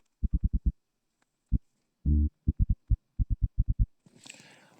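Deep synth bass notes played in FL Studio Mobile, a rhythmic run of short punchy low hits with one longer held note, ending in a faint noisy tail.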